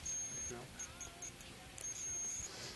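Two bursts of a steady, high continuity beep from a multimeter testing a connection while building a stabilized bench power supply, a short tone near the start and a longer one later, with faint handling noises between.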